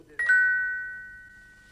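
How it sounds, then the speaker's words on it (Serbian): A doorbell gives a clean two-note chime, one tone quickly followed by a second that rings on and slowly fades in a quiet room. "Zvono."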